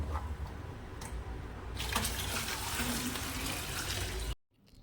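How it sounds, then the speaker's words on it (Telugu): Water runs steadily from a tap into water bottles, a continuous splashing gush that stops abruptly near the end. "వాటర్ బాటిల్స్ అయితే ఫిల్ చేసుకుంటున్నాను నేను"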